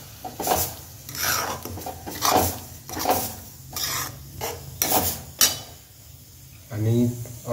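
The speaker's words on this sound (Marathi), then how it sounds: "आणि याला चांगल्या प्रकारे मिक्स करून घ्यायचं आहे।" A spoon stirs tomato paste into masala in a pan for whole masoor dal, making a series of rhythmic scraping and rubbing strokes, close and moderately loud, with short pauses between them.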